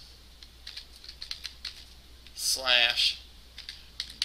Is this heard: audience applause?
no